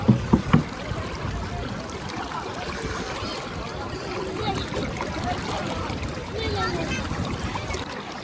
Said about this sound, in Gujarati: જો ભાઈ ભરી લઈ અહીંથી પાણી